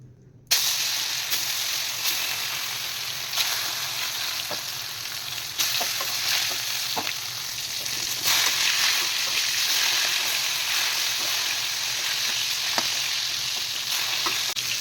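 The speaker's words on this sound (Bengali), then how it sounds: "এবার আমি মাছগুলো ভেজে নেব।" Steady crackling sizzle of rohu fish frying in hot oil, continuous and close, with occasional sharper pops and spatters throughout.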